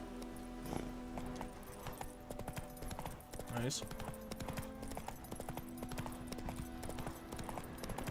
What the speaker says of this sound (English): Where's this stupid horse taking me?